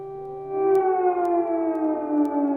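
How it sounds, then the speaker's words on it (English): Air raid sirens wail over Kyiv, Ukraine, a loud sustained rising then slowly falling tone that carries from a distance, with no voices. "Air raid sirens sounded in Ukraine's capital, Kyiv, as Russian troops pressed on."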